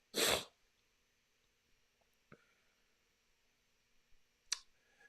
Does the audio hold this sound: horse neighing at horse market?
no